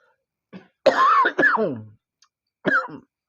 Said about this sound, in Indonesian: itu lagi batuk